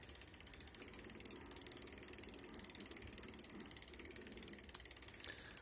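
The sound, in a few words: e-bike pedal assist engaging as pedaling starts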